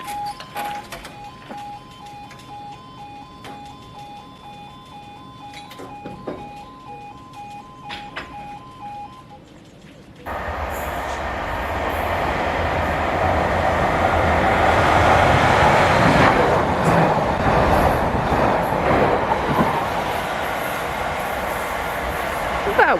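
Class 755 train 755-411 passing through Brundle: a level crossing's repeated warning tones sound first, then the train arrives with a sudden loud, sustained roar and rattle of wheels on rails, close by.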